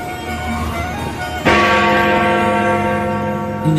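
A bell strikes once in an animated Christmas movie about dogs, a loud bright clang that rings on with a long, humming sustain over soft background music.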